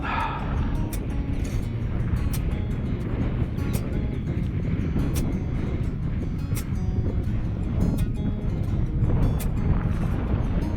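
Steady wind buffets an outdoor model flying field, a continuous low roar with microphone rumble that persists for the whole stretch at even loudness, with no one speaking.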